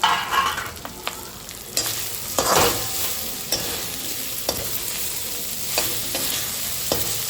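Dhokla stir-fried in a pan with sesame seeds, curry leaves, turmeric, salt, chili and coriander-cumin powder, giving a close steady sizzle broken by repeated scraping stirs and clinks of a utensil, with no talking.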